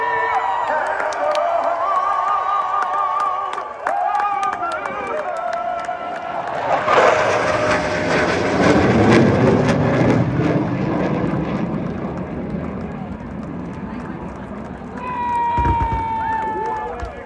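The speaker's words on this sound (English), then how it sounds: "A special thank you to U.S. Air Force F-16 fighter demo team from Shaw Air Force Base for today's flyover" A U.S. Air Force F-16 fighter jet flies over the Pocono Raceway NASCAR Cup Series race, a loud roaring rumble that swells and fades over a cheering stadium crowd, with a public-address voice talking throughout.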